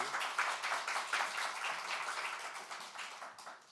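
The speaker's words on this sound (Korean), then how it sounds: "우리 박수로 환영할까요?" A Korean Baptist church congregation at Sunday morning worship applauds to welcome a missionary, a brief, even patter of many hands clapping at moderate volume.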